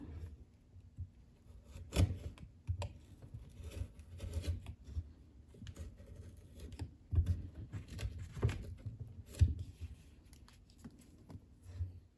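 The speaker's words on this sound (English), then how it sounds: "I'm going to try to carefully use a knife to just clean off the edges a little bit" A knife trims the edges of a rubber snow blower impeller flap, giving quiet, scattered scraping and cutting strokes with small taps and rubs close by.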